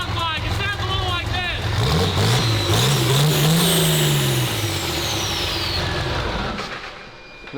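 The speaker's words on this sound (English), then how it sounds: "I wonder what Cummins Swap Rolls Royce sounds like." Cummins diesel-swapped Rolls-Royce engine revving hard, its pitch rising and falling in a loud sustained sweep, with a raised voice talking over the start.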